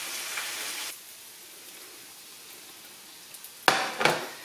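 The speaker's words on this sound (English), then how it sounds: "But for the rest of that bacon, I'm going to be cooking it in a stainless steel skillet." Bacon frying in a stainless steel skillet, a bright sizzle that fades after about a second into a faint hiss, followed by a few sharp clatters and scrapes of metal near the end.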